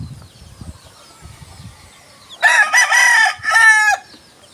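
A native hen beside freshly hatched chicks clucks and squawks in two loud bursts near the end, after soft low scuffling and rustling.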